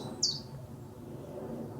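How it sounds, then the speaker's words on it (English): A single brief bird call rings out fairly near in woodland at the RSPB Pulborough Brooks reserve, a short bright chirp over steady low outdoor rumble. "What was that bird?"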